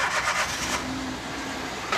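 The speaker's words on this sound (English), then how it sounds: "with the cap off, start your car." A car engine cranks in short pulses with the radiator cap off, then settles into a loud, steady running drone, heard up close and without any speech.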